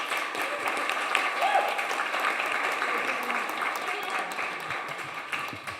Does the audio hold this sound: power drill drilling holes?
no